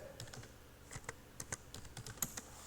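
Typing a Stata command on a computer keyboard, a quick irregular run of light key clicks and taps, close and fairly faint, with no talk.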